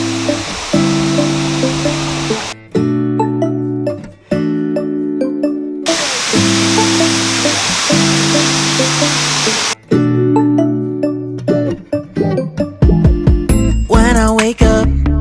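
Roaring waterfall in a Ghanaian jungle, a loud, steady broadband rush heard in several stretches that alternate with music.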